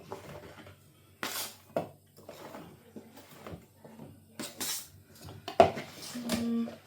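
Raw potatoes for homemade chips tumble into a bowl in several separate clattering drops with thuds and knocks in between, and a voice speaks briefly near the end.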